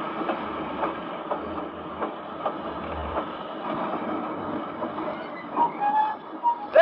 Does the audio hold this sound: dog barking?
no